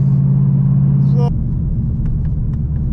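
A Whipple-supercharged 750bhp Ford Mustang driven hard sends a loud, steady engine drone into the cabin, which drops suddenly partway through, as at a gear change, before rumbling on.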